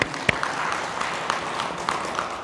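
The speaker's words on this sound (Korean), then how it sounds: "그런 자기 자신들을 위해서 한번 큰 박수 한번 보내주십시오." An audience at a Buddhist dharma talk gives applause, a thin steady patter of clapping with a few sharper claps standing out, moderately distant.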